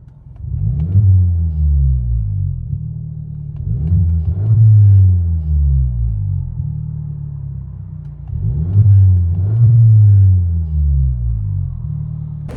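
Cabin sound of a 2016 Kia Optima SXL Turbo fitted with an NTR race muffler: a deep, loud exhaust drone swelling in repeated rev surges roughly every four seconds, with no voices.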